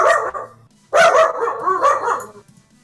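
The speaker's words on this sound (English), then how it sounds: "Sorry, just deal with the dog." A dog barks nearby, a short burst of loud, sharp barks and yips spread over a few seconds with brief gaps between them.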